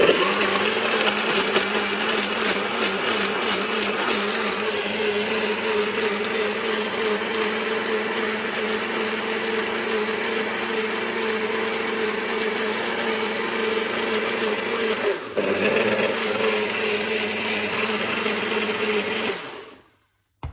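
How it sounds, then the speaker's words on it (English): A blender runs continuously with a steady, loud whirring drone, briefly dipping once before cutting off near the end. "I think my blender is going enough"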